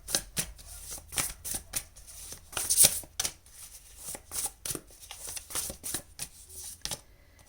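Tarot cards are shuffled by hand in a rapid series of crisp riffling bursts and soft slaps, close and fairly quiet, with no voice over them.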